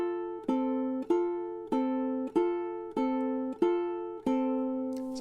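Fingerpicked ukulele plays the opening of March of the Toreadors. Steady, evenly spaced plucked notes ring out over a sustained low tone, clear and close, with no voices.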